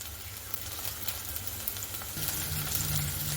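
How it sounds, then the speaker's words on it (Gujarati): Chopped onion, garlic and chillies sautéing in a pan for an aloo paratha filling give off a steady, soft, close sizzle with no voices over it. "કાંદા ને લસણ ને મરચાંની થોડીક કચાશ દૂર થઈ જાય એટલા માટે આપણે તેને થોડા સાતળી લઈશું"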